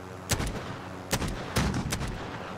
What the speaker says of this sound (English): I have a shot left in this gun.